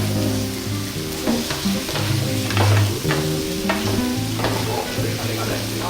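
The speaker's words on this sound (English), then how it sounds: "Okay, and then I stir around all of them like this." Mixed Indonesian ingredients sizzle in a pan at a cooking show while being stirred, with repeated scraping strokes over a steady, fairly loud frying hiss.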